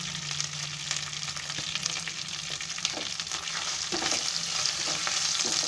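Half a spoon of asafoetida dropped into hot oil for matar pulao, giving a steady close sizzle with scraping stirs and small clicks, growing slightly louder toward the end; no voices.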